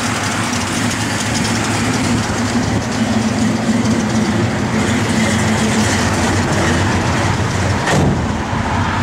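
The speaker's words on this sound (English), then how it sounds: "Just a good running 440." A 1966 Dodge Coronet with a 440 V8 and a lumpy cam idles steadily and loudly up close, a constant deep rumble with a brief clunk near the end, no voices.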